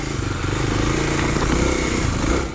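A Kawasaki KLX dual sport motorcycle climbs a single-track trail, its engine loud and close with a steady, labouring drone throughout.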